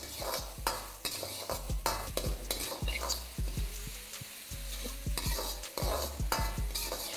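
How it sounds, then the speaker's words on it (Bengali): Dry red chillies with chopped ginger and garlic sizzle in hot oil in a wok while a utensil stirs them with repeated scraping knocks against the metal, steady and close, with no voices. "আর তেলটা একটু গরম হয়ে গেলে এখানে দিয়ে দিন শুকনো লঙ্কা, তার সাথে আদা কুচি আর রসুন কুচি"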